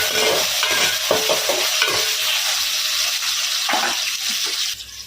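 Shallots and garlic sautéing with coarse salt in a pan, a steady loud sizzle broken by repeated scraping stirs, close and continuous with no talk.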